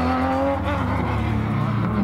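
An ARTA Honda NSX race car heads out onto the Tsukuba circuit for a time attack, its engine droning loudly and continuously with a rising, shifting tone and a faint tire-squeal edge.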